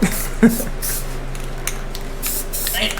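A continuous hiss of a spray paint can coating a car bumper, steady and close, with a couple of small clicks and knocks near the start.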